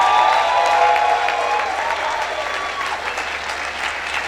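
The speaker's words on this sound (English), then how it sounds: "keep clapping" A hall full of people clapping at a business success summit, loud and dense at first, then easing slightly as the applause carries on without a break.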